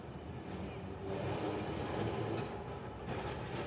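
A Hiroshima tram running at night, a steady rumbling roll with faint rail noise, fairly close and alone, swelling slightly in the middle.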